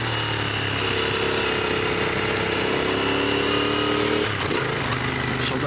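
Motorcycle engine droning steadily while riding, a close continuous hum with wind noise and a slight shift in pitch near the end.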